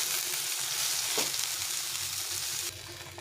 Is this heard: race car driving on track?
no